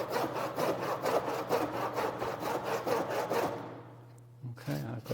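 Hand saw cutting across a piece of wood to form a dado, with steady rhythmic back-and-forth strokes up close that stop near the end, followed by a brief knock.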